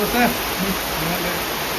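Heavy rain falls steadily on and around a house, a dense continuous roar with a brief faint voice near the start.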